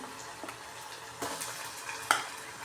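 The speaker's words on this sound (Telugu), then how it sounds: "ఇప్పుడు మటన్ యాడ్ చేస్తున్నాను" Mutton going into a pan of frying ginger paste, with a rising sizzle and several close scrapes and clanks of a spoon against the pot.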